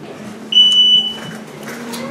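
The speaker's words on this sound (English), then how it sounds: "this alarm is just to make sure none of you fall asleep" A shrill electronic alarm goes off during a talk in a lecture hall, a single sharp high beep lasting about half a second above a low steady room hum.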